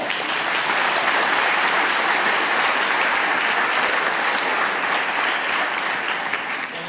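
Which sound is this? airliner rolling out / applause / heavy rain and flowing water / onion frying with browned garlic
applause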